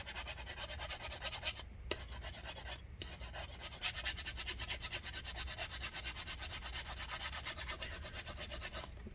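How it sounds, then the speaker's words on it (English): Adhesive residue on a 2014 15-inch Retina MacBook Pro being scraped and rubbed off with rubbing alcohol, a close, continuous, quiet gritty rubbing with brief pauses. "get the rubbing alcohol onto the adhesive and just slowly scrape and rub it out"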